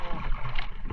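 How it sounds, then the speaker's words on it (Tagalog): Boat motor rumbling on open water during a Philippine fishing trip for tuna, a steady low droning engine with wash and wind noise, fairly loud and continuous throughout. "Rinig ang ragamak ng motor."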